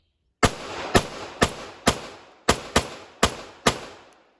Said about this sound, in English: Mag dump into The watermelon.